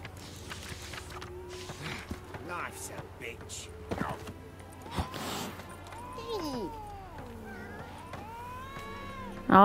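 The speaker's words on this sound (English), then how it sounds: "All the cats." Several cats meow in The Witcher 3: Wild Hunt video game, with repeated wavering mewls and calls that grow busier toward the end, heard over game ambience and footsteps.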